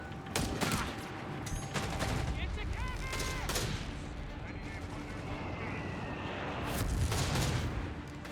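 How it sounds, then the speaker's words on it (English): Mortar fire from half-tracks in Company of Heroes 3, a desert battle between Afrika Korps and US forces, with repeated booms and bursts of gunfire amid battle noise and a commentator talking over it. "More mortar fire from the half-tracks."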